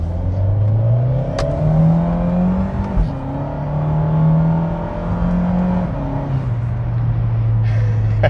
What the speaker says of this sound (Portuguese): deixa eu ligar o modo esporte aqui e desligar o controle de tração